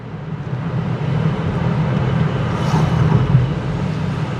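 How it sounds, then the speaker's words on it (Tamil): A car coasts along in neutral gear with no throttle, giving a steady low rumble of tyres and road noise inside the cabin, fairly loud and unbroken, with no one talking. "இப்போ வந்து நியூட்ரலில் போகுது வண்டி"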